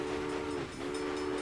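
A train in the railway strategy game Railway Empire sounds a steady whistle-like tone, holding throughout with a brief dip midway, with no speech over it.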